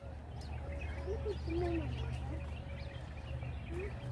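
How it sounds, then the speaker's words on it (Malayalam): Several birds call and coo at Al Ain Zoo, with short whistled and rising notes scattered across a steady low outdoor hum, moderately close and fairly loud. "ഭയങ്കര കിളികളുടെ ശബ്ദം മാത്രമേ ഉള്ളൂ"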